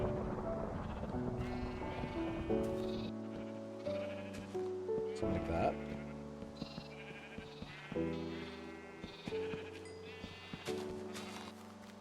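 Sheep in a modded Minecraft world bleat over and over, the calls close and overlapping across a steady bed of game sound, while a voice speaks briefly.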